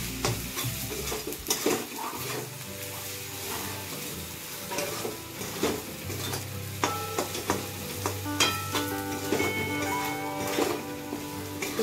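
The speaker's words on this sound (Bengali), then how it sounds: "এখন কিন্তু আমি জল দেব না, মশলাটা ভালো করে কষিয়ে নেব।" Masala with Kashmiri chili powder fries in oil in a pan for chicken curry, without water, under steady stirring: a continuous close sizzle broken by frequent scraping clicks of a spoon against the pan, with no voices.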